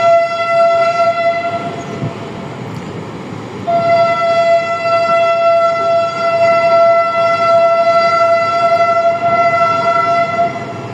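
Sialkot Express train horn blaring continuously, a loud sustained tonal whistle that dips briefly near the start and then resumes, steady and close, no voices.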